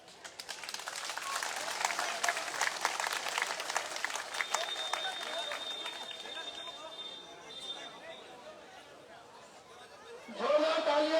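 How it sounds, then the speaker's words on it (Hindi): Applause and chatter from an outdoor crowd at a welcome reception for a BJP candidate during a campaign outreach. The clapping is dense and sustained, then fades toward the end, and a voice cuts in right after. "जोरदार तालियां।"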